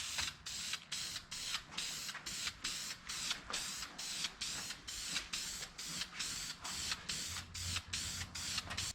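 Duplicolor trim and bumper paint sprayed from a can onto DIY sideskirts for a Honda CRX, heard as a steady series of close, loud hissing bursts in an even, pulsing rhythm, about two per second, with no talk.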